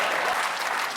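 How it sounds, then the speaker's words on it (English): Studio audience on a British panel comedy show applauding, a short, dense burst of clapping and cheering, close and steady throughout. "Well, they're cheering an A-level."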